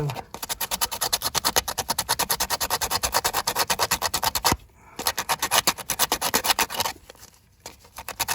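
A 4-cylinder Saturn coupe starter's electrical connection is scuffed clean with rapid, close back-and-forth scraping strokes in a steady rhythm, pausing briefly midway before resuming.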